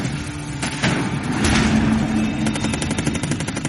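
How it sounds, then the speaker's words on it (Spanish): Machine-gun fire from an airplane in 1977, loud and close: scattered heavy shots, then a rapid dense burst of rattling rounds over a rumbling engine-like drone. "Por 5 minutos, dispararon desde el avión."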